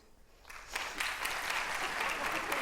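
A live audience at a comedy show starts clapping and the applause quickly swells into a dense, sustained round that continues to the end.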